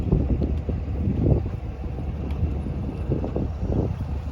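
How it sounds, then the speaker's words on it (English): A boat motor runs steadily with a low rumble on Heyburn Lake while gusts of wind buffet the microphone. "We'll pull up here and shut the motor off"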